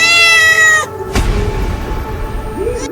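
A black cat lets out a loud, close meow lasting under a second, followed by a sharp thump and steady background noise.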